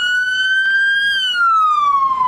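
A police car siren wails steadily, one long tone sliding high and then dropping, loud and alone without any voices.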